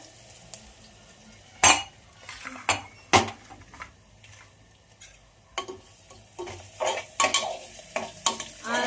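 Onion with crushed garlic and ginger stirred in a pan for khichdi, a spoon scraping and clinking against the metal in irregular sharp strokes over a low, quiet sizzle, close by and without talk.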